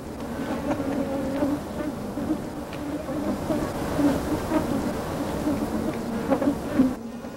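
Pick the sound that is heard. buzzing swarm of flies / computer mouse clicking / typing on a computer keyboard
buzzing swarm of flies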